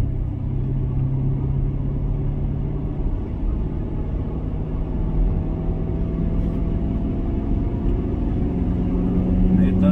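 A deep, steady engine rumble from a manual C7 Corvette's exhaust, idling close by with a low droning tone throughout.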